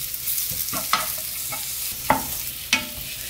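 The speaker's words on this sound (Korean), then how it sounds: "호박을 넣고 볶는데요, 그냥 살짝만 볶을게요." Sliced zucchini is stir-fried briefly in a pan with a little sesame oil over low heat: a soft background sizzle is broken by several sharp spatula scrapes and stirring clatters, close and alone.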